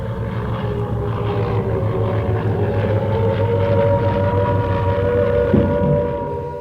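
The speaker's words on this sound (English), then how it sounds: "you could hear the planes coming over." Propeller planes pass overhead during a wartime raid over London's East End, a deep throbbing drone that swells slightly in the middle and fades away at the end.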